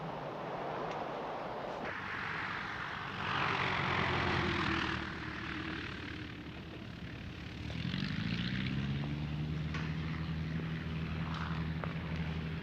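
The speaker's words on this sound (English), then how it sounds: "is that you standing up on top of this biplane?" A biplane's propeller engine drones overhead, rising and fading in loudness, with a steady low tonal hum emerging in the second half as the aircraft passes.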